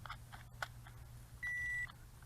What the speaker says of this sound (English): Just up makes the beep